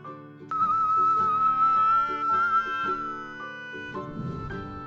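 A kettle heating water whistles with a steady high tone that holds for several seconds over lower layered tones, then fades out as a softer rumbling noise takes over at the end.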